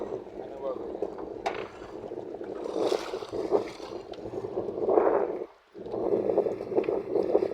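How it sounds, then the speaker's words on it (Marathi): A boat on the water at Dom dam during a village boating trip, with steady splashing and gurgling water and wind buffeting the microphone, a brief lull near the end, while people talk over it. "ही आहे आपली बोट. या बोटीतून आपण जाणार."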